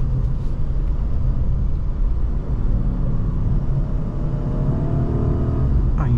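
A 2023 BMW M850i Gran Coupe cruises on a highway, heard from inside as a loud, steady low rumble of engine and road noise that holds constant with no talking.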